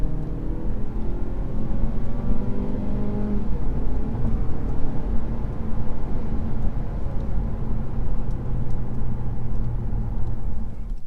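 A 2020 Mazda 3 sedan Premium AWD driving in sport mode, heard from inside as a steady engine drone and road rumble, with the engine pitch climbing through the first few seconds.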